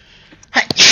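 A single sharp sneeze bursts out close by after a brief quiet intake of breath, loud and abrupt.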